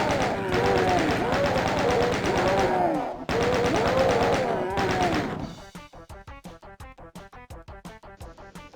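Rapid automatic gunfire in the DOOM video game mows down shotgunners. Loud, dense bursts run for several seconds with monster cries mixed in, then give way to a steady, evenly spaced string of single shots.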